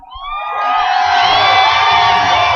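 A crowd at a live radio show stunt cheers, whoops and yells, rising quickly into a loud sustained roar of many voices that holds for a couple of seconds.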